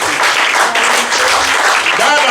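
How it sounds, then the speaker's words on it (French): A church congregation applauds during an ordination service, a dense, steady wash of many hands clapping that fills the whole stretch, with voices mixed in. "Je vous dis, applaudissez le Seigneur."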